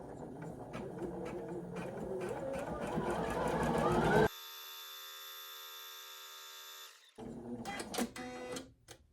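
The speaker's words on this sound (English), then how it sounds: "this first stitch will be the placement stitch for my fabric" A Poolin EOC06 embroidery machine sews a placement stitch with a magnetic hoop: a steady, rapid mechanical whir of needle strokes that starts, runs evenly for several seconds, then stops amid clicks and handling noise.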